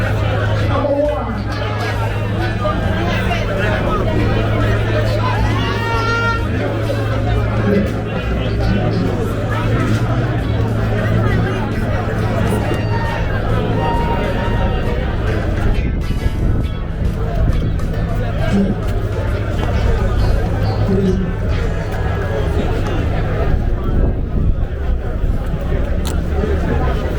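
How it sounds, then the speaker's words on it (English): A large crowd at Dover Raceway waits for a race start, a dense, steady hubbub of many voices with a low engine hum running underneath throughout. "Crowd is eager to start of race."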